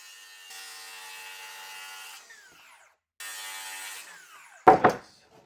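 A saw rips half an inch off a 2x6 board in two steady, loud cutting passes with a pause between them, each ending as the blade winds down. A sharp clatter follows as the offcut drops, and no one speaks.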